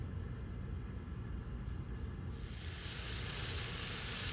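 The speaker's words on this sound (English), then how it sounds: "So as you can see, the fish is frying." Bangamary fish deep-fry in a pot of oil at a lakeside cooking spot, a steady bubbling sizzle that jumps suddenly brighter and louder about halfway through, with no one talking.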